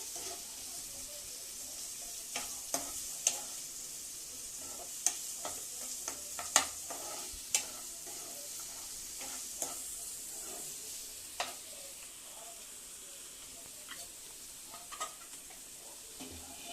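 Curry leaves fry in hot oil in a pan, a steady close sizzle with scattered small pops and crackles and occasional stirring scrapes, no talking over it.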